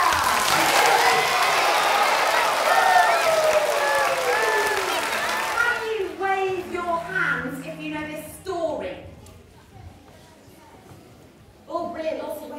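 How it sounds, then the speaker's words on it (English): A young concert audience welcoming a chamber ensemble on stage with loud, dense clapping and cheering that fades after several seconds into scattered voices and children's chatter. "let's welcome them on stage with a big clap and a"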